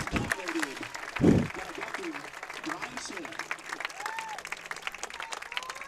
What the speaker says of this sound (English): Ladies and gentlemen, please give a big round of applause for Jim Sarwinski.